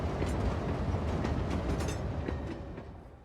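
A train passing by in the city-building game Cities: Skylines II, a steady loud rumble with clattering wheel noise that fades slightly toward the end, with no talk over it.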